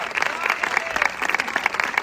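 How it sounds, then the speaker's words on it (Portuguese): Dense applause from a large church congregation, steady clapping filling the room, with a few voices calling out beneath it. "Aplauda o Senhor!"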